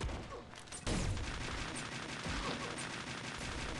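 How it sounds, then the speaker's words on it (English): A shotgun fires in the Pixel Gun 3D video game with a loud blast, then a dense stretch of continuous gunfire and game noise, without clear speech. "That's the shotgun."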